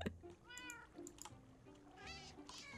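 Cat meows in the Minecraft video game, several short rising calls heard close and clear, one early and a couple more near the end, over a low game background.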